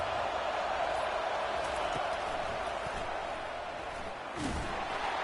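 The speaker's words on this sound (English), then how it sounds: "It's early, but this crowd is fired up. Listen to this noise here." Fired-up stadium crowd in the College Football 25 video game, a loud, sustained roar of cheering with a few thumps and a brief swell near the end, no commentary heard.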